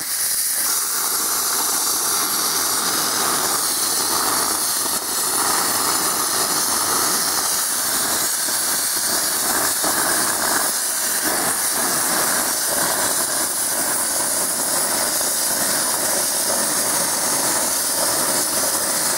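A plasma cutter cutting titanium for a dive knife, a loud continuous roaring hiss with crackling texture that holds steady throughout, close and without pauses.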